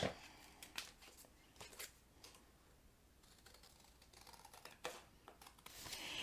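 Designer paper is trimmed for card making with a series of faint close snips and crisp paper rustles at an uneven pace. The sound is very quiet overall.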